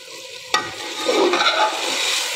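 Okra (bhindi) dropped into a hot pan and stirred, a sharp clatter followed by a bright, spreading sizzle of frying that stays loud and steady to the end.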